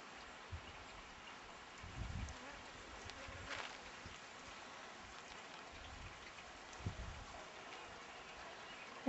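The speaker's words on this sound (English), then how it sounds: "Here's the wonderful sound of precious water as it" Water pours from a hose into a tank, a soft, faint splashing hiss with a few slightly louder gushes, heard alone without talk.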